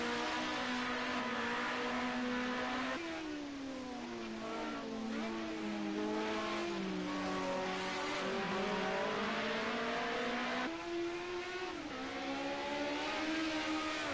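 A Ford Sierra Cosworth Group A touring car races in a game at the Nordschleife. Its engine holds a steady loud drone whose pitch rises and falls through the gears, with brief downshift dips, continuous for the whole stretch.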